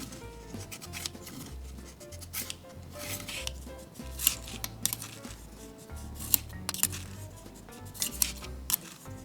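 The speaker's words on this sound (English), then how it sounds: "Slide the beveled edges of the scissors along the dull spine of a heavy chef's knife." Beveled scissor blades scrape along the dull spine of a heavy chef's knife in repeated close, metallic sliding strokes with bright rasping bursts, set against a steady low musical background.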